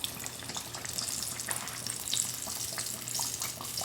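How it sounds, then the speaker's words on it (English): Burrito deep-frying in about four cups of hot manteca, a steady dense crackle and bubbling sizzle filling the whole stretch, close and even with small pops, no talk. "we're going to fry it until it's golden brown"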